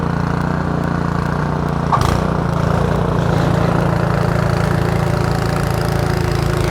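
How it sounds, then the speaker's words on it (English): A snowblower engine runs steadily outdoors on a winter day, giving a loud, constant mechanical drone with a brief jolt partway through and no pauses. "there's a snowblower that's going to be blowing snow on me any second now"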